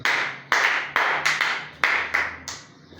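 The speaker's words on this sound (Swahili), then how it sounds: "Yesu makofi mazuri." A church congregation claps in a steady rhythm, about seven loud, sharp, evenly spaced claps ringing out close by with no talking.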